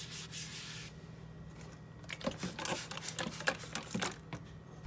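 Rubbing and scrubbing strokes on a surface while black spots are wiped away with homemade cleaning product, heard close as a quick run of rough rasping strokes over a steady low background hum, with no talk.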